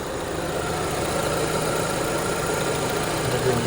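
A 2008 Renault Megane Scenic II's 1.6-litre MPI petrol engine idles steadily at a low, even rumble, close and continuous, with no voices.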